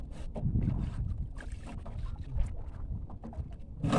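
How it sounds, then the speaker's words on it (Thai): Gusty wind blowing near water, a continuous rough rumble that buffets the microphone with irregular surges, with no voices. "โอ้ลมแหงเลย"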